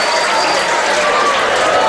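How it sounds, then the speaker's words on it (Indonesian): Dense applause for a boarding-school student called to the front of a gathering, a steady wash of clapping filling the whole short stretch. "Tepuk tangan buat Faisal."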